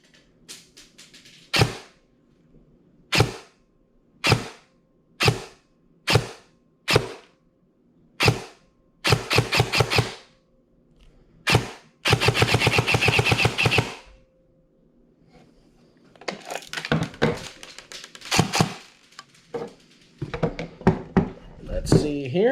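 A JG SR25 airsoft rifle fires over a chronograph in a series of sharp, loud single shots spaced a second or two apart, then quicker clustered shots and a short rattling burst, alone with brief talk between.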